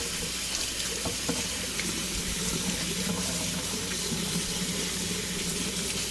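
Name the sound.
washing kale under running tap water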